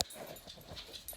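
A dog whimpers faintly in a brief, soft whine, with a quiet room background and no speech.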